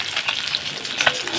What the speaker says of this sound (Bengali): এখানে মাছটা এই যে ভাজা হয়ে গেল প্রায়।